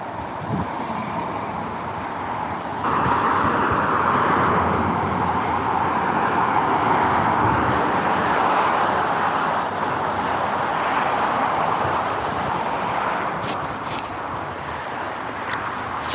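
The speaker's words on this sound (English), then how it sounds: "I have to talk a little bit louder now because of the traffic." Steady road traffic on the Garden State Parkway at night, a continuous broadband roar of passing vehicles that swells after a few seconds and holds, with a few brief higher-pitched tones near the end and no talk.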